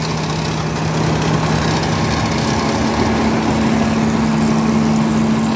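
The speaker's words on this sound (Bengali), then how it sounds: "এই মেশিন দিয়ে ধান কেটে কিন্তু একদম মারাই করে" A rice harvesting and threshing machine working a paddy field, its engine droning loud and steady with a constant hum and mechanical vibration, no voices over it.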